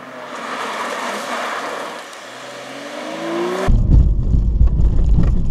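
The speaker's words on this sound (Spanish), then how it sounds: "Es manejar, aventarte en reversa a todo, girar el volante, meter primero en ese transcurso y salir exactamente 180 grados para atrás." A car reverses at full throttle with a rising engine whine, then spins 180 degrees in a J-turn and pulls away as the sound shifts abruptly into a loud, rumbling rush.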